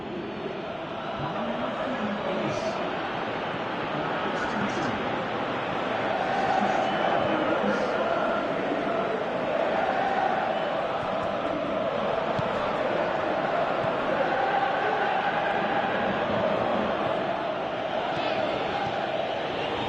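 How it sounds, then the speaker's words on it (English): A large football crowd in the PES 2018 video game roars in a steady, dense wash of cheering that swells slightly midway and holds at a loud, even level throughout. "you can hear how the crowd are reacting to this too"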